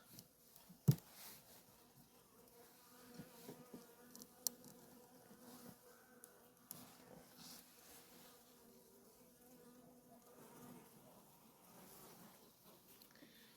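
Soft, steady buzzing from many Carniolan honey bees on a hive frame hums throughout, fairly quiet, with a few small knocks and clicks along the way.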